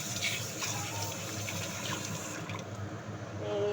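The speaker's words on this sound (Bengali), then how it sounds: "চিংড়ি মাছটা আর একবার ধুয়ে নিই" Large prawns get a rinse under a running kitchen tap, a steady close gush of water that thins out near the end, with no voices.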